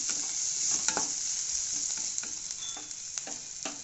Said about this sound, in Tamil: வதக்கி காட்டுறேன் ஒரு கரண்டு தேங்காய் எண்ணெய் ஊற்றிருக்கேன்